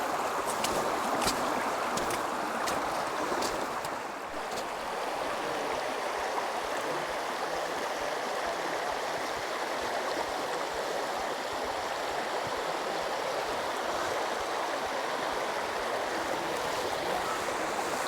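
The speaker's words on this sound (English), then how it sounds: "the river is obviously coming out from the bottom here" River water rushing out from the base of Malham Cove, a steady, full broadband flow that stays constant throughout, with faint clicking at the start and no voices.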